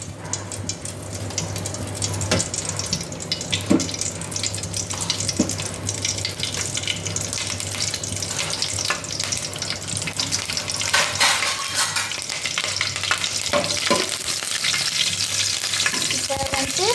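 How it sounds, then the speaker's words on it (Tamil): Curry leaves sizzle and crackle in hot oil in a pan for pepper rice, a dense, continuous frying hiss with scattered pops and spatters, fairly close and steady throughout. "எண்ணெய் சூடானதுக்கப்புறம் கொஞ்சம் கருவேப்பிலை போட்டுக்கணும்."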